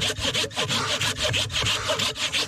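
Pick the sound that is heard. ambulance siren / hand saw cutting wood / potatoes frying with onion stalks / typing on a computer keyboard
hand saw cutting wood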